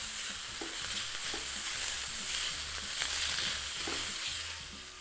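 Bacon browns in a preheated pan with a continuous close crackling sizzle, broken by soft repeated utensil taps and scrapes as it is stirred. No voices.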